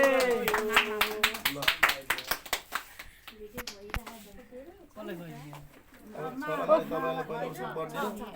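Guests at a birthday party clap in a quick run of sharp, rhythmic slaps that thin out into a few scattered claps, followed by people talking and singing nearby.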